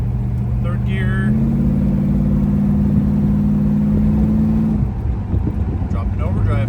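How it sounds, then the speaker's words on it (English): A 1967 Dodge Coronet 500 with fuel injection cruises in third gear, its engine drone carrying a steady high whine that fades out near the end, with someone talking over it. "That whine from the fuel injection a little bit. It kind of always does that. Third gear."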